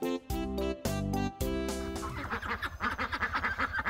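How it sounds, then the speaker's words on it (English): A duck, likely a mallard, calls first with a few long nasal honking notes, followed by a rapid series of shorter chattering quacks, close and clear with no talking. "The most common duck is the mallard."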